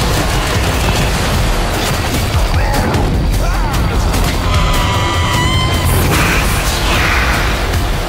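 Loud, continuous video game gunfire roars with heavy booming impacts and dense rapid shots that blend into a wall of noise from start to finish.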